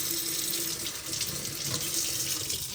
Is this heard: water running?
yes